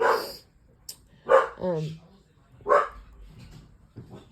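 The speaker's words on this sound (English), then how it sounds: "sorry, the dogs are barking" Several loud dog barks and a yelp come in bursts, close by, separated by short pauses with faint room noise.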